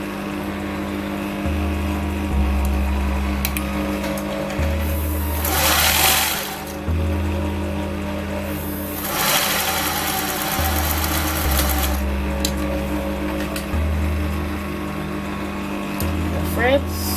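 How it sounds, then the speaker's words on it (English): A sewing machine stitches along the short ends of a shirt collar, its motor whirring in several separate bursts with short pauses between runs. "I'm going to stitch along the short ends."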